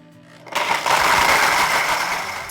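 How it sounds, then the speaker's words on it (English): A blender roars to life after a quiet start, grinding a sugar-free keto caramel frappuccino with ice, a loud steady whirring and crunching that holds for a couple of seconds. "We're gonna grind it all up."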